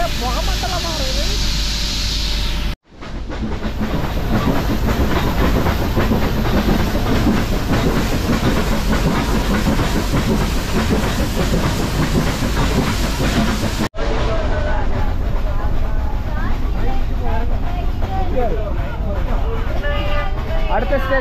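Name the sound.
steam engine toy train running, Mettupalayam to Ooty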